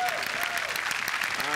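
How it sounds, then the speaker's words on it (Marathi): Loud, sustained clapping from a studio audience for a producer on the stage of a Marathi comedy show, dense and continuous throughout, with a whistling tone and a faint voice briefly audible over it. "निर्मात्या रुजुता चव्हाण यांच्यासाठी एकदा जोरदार टाळ्या"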